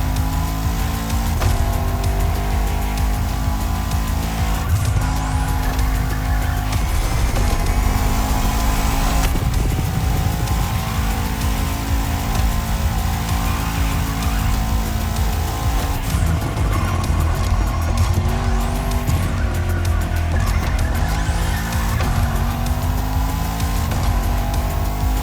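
Two Bugatti supercars race in a PlayStation 5 driving game, with loud continuous engine roar, shifting revs and repeated tire squeals as they slide through corners.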